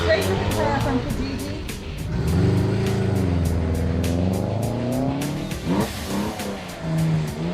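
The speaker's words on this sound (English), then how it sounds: "In this wet road, the speed of this Porsche, the weight of the Porsche, all that has to factor into how fast it's going to brake" A Porsche rally car runs fast on a wet road, its engine droning and rising in pitch beneath continuous talking with a wet hiss throughout.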